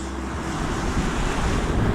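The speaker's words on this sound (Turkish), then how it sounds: "Çünkü bakın dalgalar büyük biraz." Big sea waves washing onto the shore at a fishing spot, a steady loud rushing surf mixed with wind buffeting the microphone, with no one speaking.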